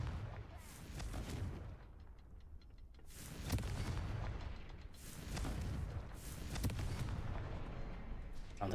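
Confringo fire-blast spells explode in the Hogwarts Legacy video game as repeated deep booming blasts over a continuous rumbling wash of game sound, loud and dense throughout.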